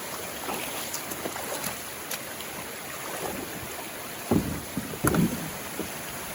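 Hollow scraping and thumping of a canoe hull being dragged over an obstacle in a creek, with a couple of louder bumps near the end over running water.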